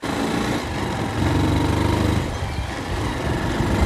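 A motorcycle engine runs steadily and loudly up close, a continuous rough drone with no pauses.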